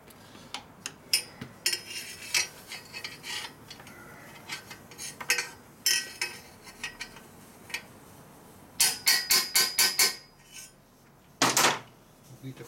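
A flange on a Harley-Davidson Evo Sportster XL rear belt pulley is struck with sharp metallic taps, single blows and quick bursts of hammering at close range in a quiet workshop, with brief pauses between series.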